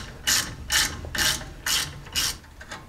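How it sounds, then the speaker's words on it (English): Five loud, evenly spaced ratcheting clicks from a breaker bar working on a brake caliper bolt of a Jeep J10 during a front brake rebuild, close up and alone. "Let's see if I can get a breaker bar on this."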